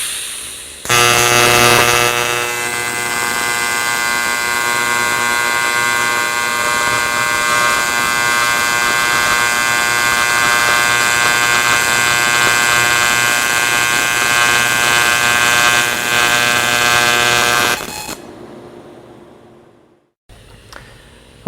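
A TIG welder runs steadily for about sixteen seconds while a small toy fan blows over the weld area, giving a loud, continuous electric buzz with a steady hum that cuts off abruptly before a short quiet tail.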